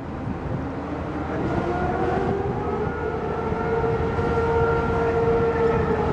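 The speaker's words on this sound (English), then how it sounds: "sirens are going and everybody's just gonna go" A long civil defense siren wail during a city safety drill in Taichung, Taiwan, rises and holds steady over a constant rumble of traffic, continuous for the whole stretch.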